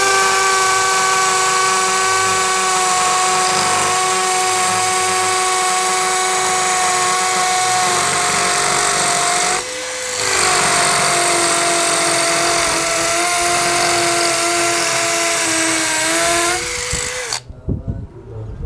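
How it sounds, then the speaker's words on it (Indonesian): A Power Action BID20 cordless hammer drill bores into concrete with a loud, steady whine and rattling hammer action, briefly easing off around the middle before resuming and then stopping near the end. "Oke, tes terakhir untuk pengeboran beton ya."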